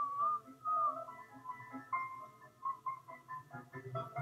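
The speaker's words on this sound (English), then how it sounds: "Whistling." A person whistles a bright, wavering tune in short phrases with gaps between them, heard close, over a low hum and faint background noise.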